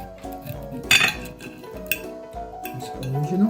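A knife scrapes and taps against a plate while cutting open an air-fried Thai sausage, with a sharp clink near the start and softer scraping sounds continuing up close, no talking.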